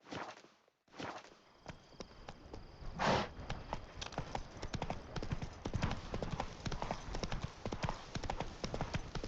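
Horse hooves clip-clop steadily in The Witcher 3, a continuous trotting rhythm of sharp close thuds that starts after a brief pause and carries on through the whole stretch.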